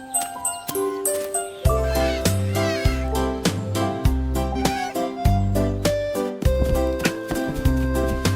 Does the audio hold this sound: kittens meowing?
yes